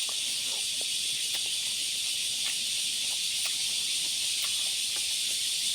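Pork chili paste stir-frying in a pan, a continuous loud bright hiss with small crackling pops scattered through it and no voices.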